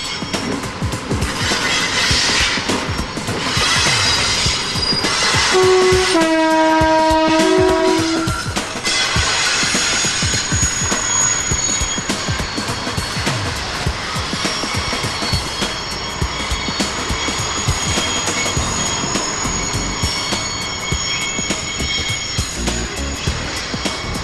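A train pulls away down a steep, winding slope with its brakes on, heading back toward the sidings: a steady, loud rumble with a sustained tonal brake squeal partway through, continuing alone to the end.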